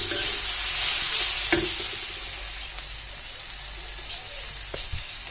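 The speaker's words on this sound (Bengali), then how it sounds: "তারপর আমি এগুলোকে ভালো করে ভেজে নেব।" Mixed winter vegetables sizzling in a frying pan with a loud hiss that eases slightly, broken by a few scraping stirs of a utensil, close up and with no talking.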